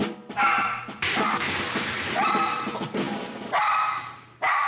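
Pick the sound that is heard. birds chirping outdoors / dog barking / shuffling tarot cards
dog barking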